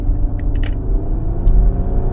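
A 2015 Nissan Pathfinder with the 3.5-liter engine driving along, a steady low engine and road rumble heard from inside the cabin, with a few faint ticks and clicks.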